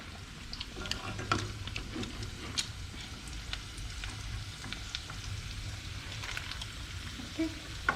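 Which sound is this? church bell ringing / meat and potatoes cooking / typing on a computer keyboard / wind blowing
meat and potatoes cooking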